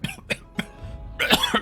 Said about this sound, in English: begins hacking, coughing, leaning over as he coughs up stone dust.